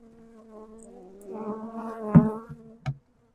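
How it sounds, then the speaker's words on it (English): Angry honey bees swarm and buzz loudly around an opened hive, a dense, rising insect drone that swells midway and ends with a couple of sharp knocks. "The bees are mad."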